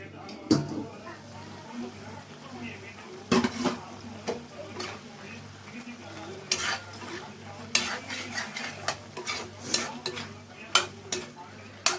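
Quail pieces frying for a chilli fry, a soft continuous sizzle with frequent clinks and scrapes of a utensil stirring in the pan, while a person talks quietly in the background.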